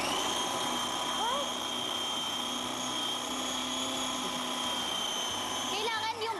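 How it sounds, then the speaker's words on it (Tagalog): A food processor runs continuously as it purees shrimp and mango for a shrimp cocktail mango salsa, giving a steady motor whine with a droning hum, while people talk quietly under it. "So, ilalagay natin sa food processor."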